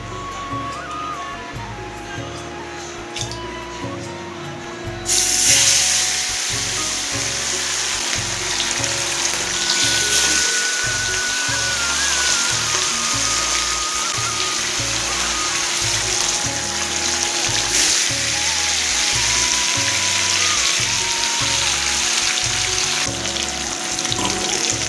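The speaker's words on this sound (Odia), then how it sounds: "ଏବେ ମାଛ ଭାଜିବା" Rohu fish frying in hot oil, a steady broadband hiss and crackle that jumps louder a few seconds in and then sizzles continuously and close up with no talking.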